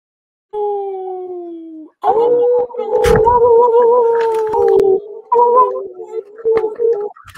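A person imitates a wolf howl with long, wavering, sustained tones in several drawn-out bursts, loud and close, broken by short gaps and a sharp clap partway through.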